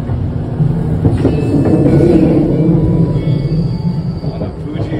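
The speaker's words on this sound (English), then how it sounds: "On a Fuji Limited Express. Fuji excursion. Leaving Shinjuku Station." The Fuji Excursion limited express pulls out of busy Shinjuku Station, heard from on board as a loud, steady rumble with rhythmic wheel clatter and faint squeals and chimes over the low roar.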